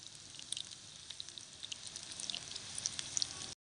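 Potato and egg kebabs fry in a pan in a Pakistani village kitchen, making a steady, close, hissing sizzle that holds evenly for a few seconds before cutting off.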